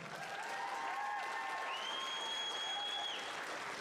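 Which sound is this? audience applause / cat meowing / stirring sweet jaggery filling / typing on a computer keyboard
audience applause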